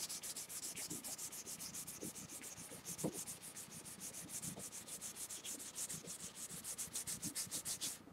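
Rosewood guitar neck rubbed clean with a rag soaked in naphtha: rapid, steady back-and-forth scrubbing strokes, close and continuous, with no voices.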